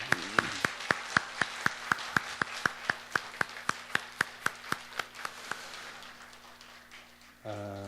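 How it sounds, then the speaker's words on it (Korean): A church congregation claps for the choir and its conductor in steady, evenly spaced unison beats, about two dozen crisp claps at a brisk tempo, fairly faint, before the clapping stops. "우리 주의자님에게도 박수하고 또 우리 찬양대원에게도 우리 힘껏 박수하겠습니다"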